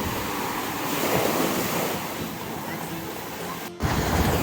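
Sea surf rolls steadily onto a crowded Odesa beach by the Korablyk restaurant, a continuous close wash of waves with heavy wind buffeting the microphone throughout.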